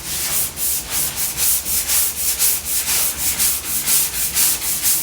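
Rhythmic hand sanding of filler on a Porsche 356 roof, steady back-and-forth rasping strokes, close and loud, about two strokes per second with no talk.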